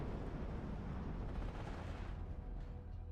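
Artillery fire in Steel Division 2, a continuous low rumbling barrage of distant booms and gunfire blending into a dense, steady roar without distinct separate shots.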